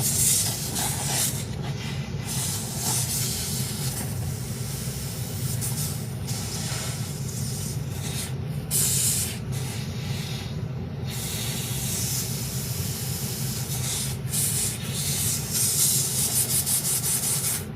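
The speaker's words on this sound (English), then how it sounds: "This steam is just natural heat to just naturally heat up all the old glue" Steam hisses steadily and loudly for a long stretch as it heats and loosens old glue. The broad rushing spray sound shifts slightly in texture, with a few brief catches and rubbing noises, and nobody talks.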